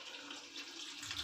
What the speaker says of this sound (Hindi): बस मैं थोड़ा सा पानी डालूंगी इसमें